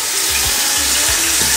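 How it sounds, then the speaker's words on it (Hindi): Water poured into a pan of biryani masala in a home kitchen, a steady rushing splash heard alone at fairly close range. "थोड़ा सा डालेंगे इसमें पानी"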